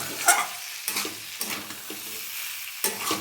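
Sajne drumsticks frying in oil with potato give a crackling sizzle and repeated scraping stirs in uneven bursts, close up, with no voices.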